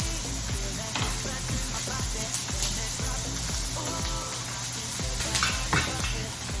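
Chopped yellow onions sizzle in a frying pan, a steady dense crackle broken by scraping stirs and light clinks of a utensil against the pan, close and continuous with no talking.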